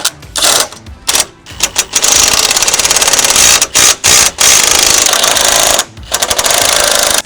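A power driver tightens screws on a Vantech H2.1 cargo rack hinge on a RAM ProMaster van. It makes loud, close bursts of rapid ratcheting clatter broken by short pauses, with no one speaking.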